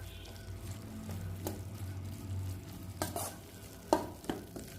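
Tomato masala thokku being stirred in a pan, with steady scraping strokes and a soft, continuous sizzle, plus a couple of sharper knocks of the utensil against the pan.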